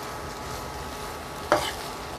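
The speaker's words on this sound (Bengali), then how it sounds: "তো আমি এটা এখন চালটা দিয়ে মিশিয়ে নিচ্ছি। চিংড়িটাও দিয়ে দিলাম। সব কিছু আমি এখন ভালো করে একটু মিশিয়ে নিচ্ছি।" Rice and prawns for egg prawn fried rice are stirred in a hot pan, a steady close sizzle with one sharper scrape of the spoon partway through.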